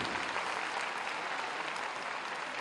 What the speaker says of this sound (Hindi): एगो जोरदार ताली महाराज जी खातिर